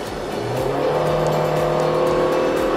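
A Honda BR-V engine hums steadily at around 3000 RPM at 110-120 km/h, with road and wind noise blended in, constant and fairly loud throughout.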